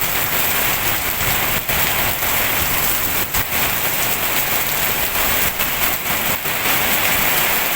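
Steady, dense rain pours down with a constant broadband hiss, gusts of wind swelling and buffeting throughout, close and loud with no voices.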